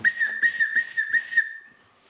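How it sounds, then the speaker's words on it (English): Schrade Survival Pen whistle blown while assembled, four short, clear, fairly loud shrill blasts in quick succession, the last one trailing off, with no talking. "this is what it sounds like when the pen's assembled together"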